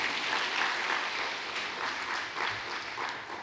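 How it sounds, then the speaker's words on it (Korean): Clapping from a church congregation, a steady dense patter sustained throughout at moderate level with no talk over it. "좀 박수 한번 하면 얼마나 고마워요"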